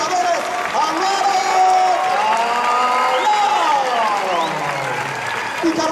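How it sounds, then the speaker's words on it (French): Applause and cheering from an arena crowd at a recortadores contest in the Arles bullring, a loud, steady wash of clapping with whoops and a voice speaking over it throughout. "S'il vous plaît, je veux un maximum d'applaudissements, s'il vous plaît, pour notre Libertadores."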